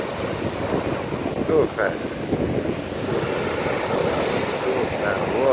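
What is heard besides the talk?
stormy sea waves on Konyaalti beach, Antalya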